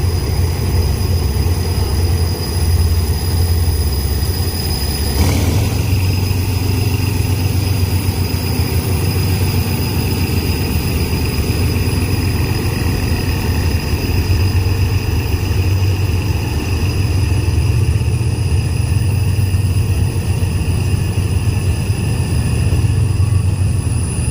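Thai suburban train 388 from Chachoengsao Junction to Bangkok with GEK.4037 railcar running, a continuous loud rumbling roar of wheels and engine with a brief clank near five seconds, steady throughout and without voices.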